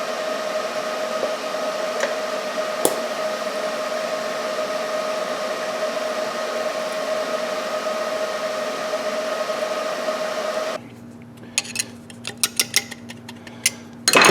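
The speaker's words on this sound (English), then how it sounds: "I'm going to TIG weld this on here in an effort not to throw BBs everywhere." A TIG torch welds an oil pump pickup onto a Pontiac oil pump casting, a steady buzzing hiss with a faint tone running for about eleven seconds, then stopping abruptly, followed by a few small clicks and taps.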